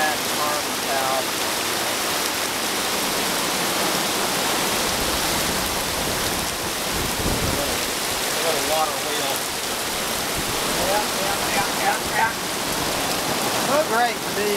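A waterfall with an eddy, heard as a dense, steady rushing roar of falling water that fills the whole stretch without pause.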